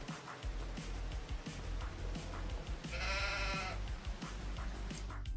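One drawn-out sheep bleat in the middle, from a farm with cows, Highland cows and sheep in Farming Simulator 25, heard over a busy background of soft thumps and low rumble.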